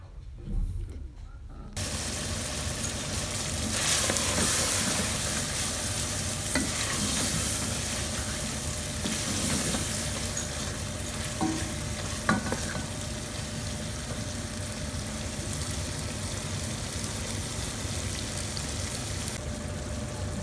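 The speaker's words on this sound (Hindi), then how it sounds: "अब हम इसे अच्छी तरह भून लेंगे इन चीज़ों को आपस में" Pieces of liver sauté in a pan, giving a continuous close sizzle with stirring and scraping, and a brief quieter moment at the very start.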